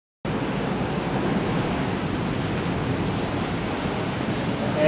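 Indian Ocean surf breaks below a cliff-edge ocean-view villa at Ungasan, Bali, a steady broadband roar of waves that starts abruptly and holds at an even level throughout, with no talk audible.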